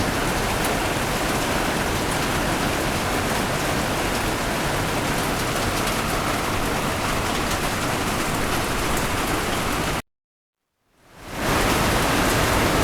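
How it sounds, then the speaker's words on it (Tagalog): Dense, steady roar of heavy rain pounding surfaces, continuous and loud, cutting out abruptly near the end before fading back in. "Sa bandang hapon, malakas pa rin ang ulan, no?"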